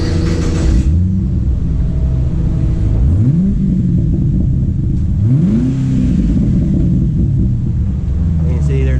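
A Chevrolet Caprice PPV police sedan on its factory mufflers revved twice from idle, each blip sweeping up and falling back, loud and close over a steady lawn mower drone, with a voice briefly audible at the start.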